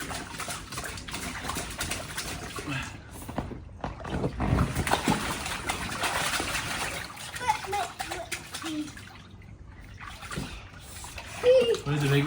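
A child splashes and paddles in bath water, giving a continuous close wash of sloshing and splatter with louder bursts, while an adult speaks over it.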